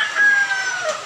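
A rooster crows at a poultry seller's place in northern Cebu, Consolacion: one sustained, loud, strained call held steadily for about a second, close to the listener, with no talk over it.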